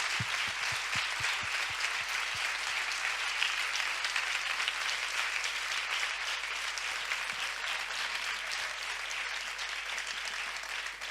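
An audience applauds at the farewell of a women columnists' gathering, sustained dense clapping that fills the room evenly from start to finish, with no voices over it.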